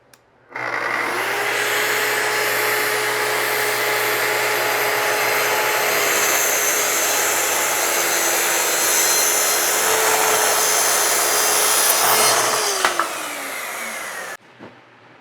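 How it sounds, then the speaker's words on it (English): A power tool cuts and shapes the front, back, top and bottom edges of wooden corner-cabinet pieces for a Murphy bed storage build. It runs as a loud, steady whine for about twelve seconds, then winds down and stops. "let me shape, cut off, again, the front and the back on the top and bottom of these pieces"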